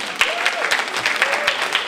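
An audience at a union launch and fundraising event applauds with loud, dense clapping that carries on steadily, with a few sharper individual claps standing out.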